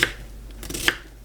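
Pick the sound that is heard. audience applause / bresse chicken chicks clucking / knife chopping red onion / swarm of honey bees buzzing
knife chopping red onion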